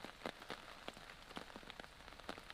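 Steady heavy rain patters outdoors at a tench fishing pond, a dense hiss of drops striking the surface with scattered sharper splats, close and continuous.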